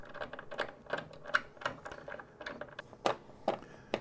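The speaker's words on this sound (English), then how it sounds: "we're gonna use some clamps. I'm just gonna put one on each side that should keep it nice and sturdy" Clamps are fitted and tightened on a CNC router table in a series of quiet clicking, ratcheting knocks at an irregular pace, close by and faint, with no talking.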